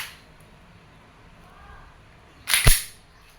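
A WE Glock 17 Force Series airsoft pistol with a silver slide fires a single sharp, loud crack after a quiet lead-in, during an indoor shooting test.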